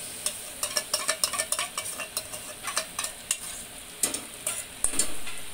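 Tomato puree sizzles in oil with well-browned onions for a matar paneer masala, stirred with a utensil that scrapes and taps the pan in a quick uneven rhythm over a continuous frying hiss, close and clear, with no talking.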